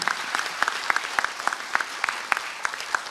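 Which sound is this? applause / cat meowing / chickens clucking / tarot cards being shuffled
applause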